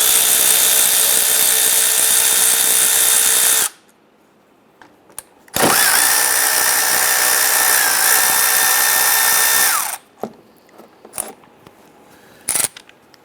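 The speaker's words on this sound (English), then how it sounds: "we want to go ahead and loosen and remove our bolt holding the caliper to the bracket. We can use our 15mm socket," A power tool, likely an impact wrench on a 15mm socket, loosens the brake caliper bolts on a 2005-2010 Chrysler 300 in two loud, steady whirring bursts, separated and followed by clinks and metallic handling noises.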